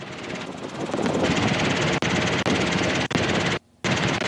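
Robinson R22 helicopter in flight, a loud continuous rotor and engine drone heard from inside the cabin, cut by several brief dropouts.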